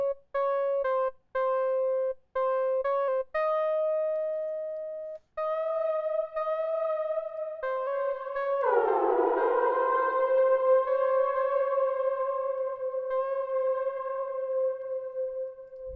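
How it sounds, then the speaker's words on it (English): A synthesized tone plays a short rhythmic pattern of clipped notes, then long sustained notes open into a heavy reverb wash with a swelling, echoing tail that rings out to the end. "So I think if we take the reverb and put it onto here, it could sound pretty crazy."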